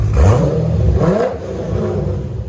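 A 2009 Chevy Corvette's 6.2L V8 with long tube headers and a Kooks cat-back dual exhaust revs up sharply and then falls back to a lower growl, loud and close with no one talking.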